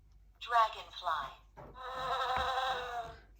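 A dragonfly buzzes on a farm in steady, close insect whirring, first in two short bursts and then as a longer continuous drone.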